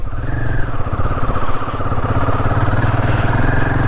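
A Royal Enfield Himalayan 450 engine rumbles steadily up close, rising in pitch as it pulls away in first gear and accelerates, with a continuous loud throbbing note.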